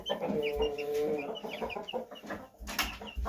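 Young chicks about seventeen days out of the shell cluck and peep in a small farm flock, a busy run of overlapping near calls with a few louder bursts.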